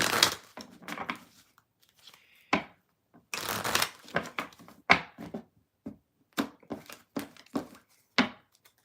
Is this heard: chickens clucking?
no